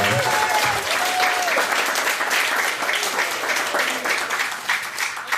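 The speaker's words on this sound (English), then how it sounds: "give her a round of applause. Everybody." A crowd at a talk applauds with loud, steady, dense clapping throughout, and a few voices are faintly mixed in.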